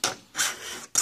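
A file scrapes along a chainsaw bar lying flat on a bench, three close rasping strokes in quick succession with short pauses between them.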